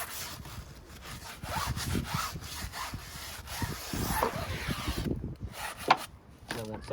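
A brush scrubbing dirt off a car tyre on a long-neglected car, with steady rhythmic rubbing strokes, close and fairly quiet, and no talking.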